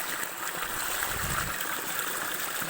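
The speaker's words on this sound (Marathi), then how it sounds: "आणि हे बघा इथून पाणी जाते." Water pours along a village field channel in a steady, close rushing flow with a continuous trickling texture and no one speaking.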